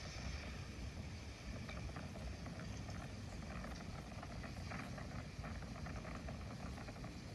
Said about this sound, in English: Boy, the wind is howling.